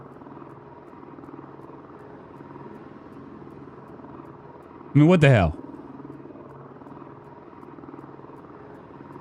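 A helicopter drones steadily in the background of the zombie survival game Project Zomboid, with modded helicopter events and huge zombie crowds. Someone talks over the low hum and shouts once midway.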